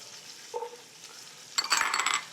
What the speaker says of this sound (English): and then we're just gonna saute it a bit